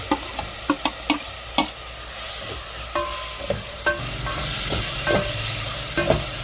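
Chicken liver frying in a hot pan for chop suey, a steady close sizzle broken by repeated knocks and scrapes of a spatula stirring against the metal, with no talking.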